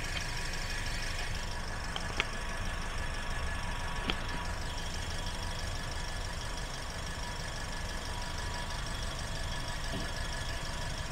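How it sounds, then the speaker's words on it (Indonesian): A 2017 Toyota Yaris TRD automatic's engine idles steadily, humming evenly throughout, with a few faint clicks over the constant mechanical drone. "teman-teman bisa dengar sendiri untuk suara mesinnya"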